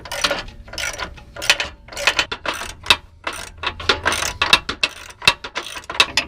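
Socket wrench ratcheting as bolts are loosened while installing an EAG bumper on a Jeep JK Unlimited Rubicon, a rapid series of close, bursty ratchet clicks in uneven strokes with short pauses between.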